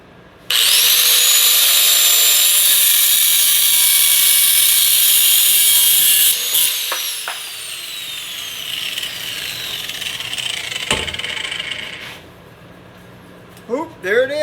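A power tool whines loudly and steadily for about six seconds while cutting around a thin steel driveshaft tube from a 1948 Ford, then slows and fades into quieter grinding, with brief taps near the end.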